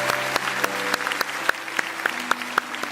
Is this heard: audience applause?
yes